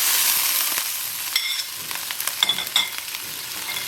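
Shallots, garlic and candlenuts hit hot oil, giving a loud bright sizzle that settles into steady frying with scattered crackles and spatula scrapes, close up with no voices.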